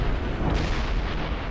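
Sniper fire booms through a Wild West shootout in the video game Call of Juarez: Bound in Blood, a loud, dense burst of rumbling gunfire and blast noise over a short span, with no voices.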